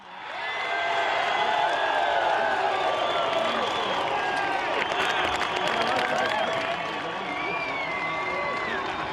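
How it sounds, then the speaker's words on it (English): A race crowd at the podium ceremony after the 2005 Sandown 500 cheers and applauds in a steady, loud wash with whoops, while an announcer's voice carries over the top throughout. "The crowd erupted here before."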